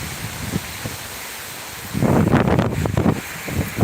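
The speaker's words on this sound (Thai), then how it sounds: "ลมแรงอันนี้" Strong wind buffets the microphone in rough, gusting bursts outdoors, growing louder midway and staying loud as a roaring blast.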